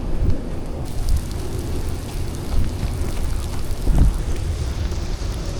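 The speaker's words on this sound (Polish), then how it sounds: "Deszcz zaczął padać." Steady heavy rain hisses and patters continuously, with low rumbles of thunder swelling underneath.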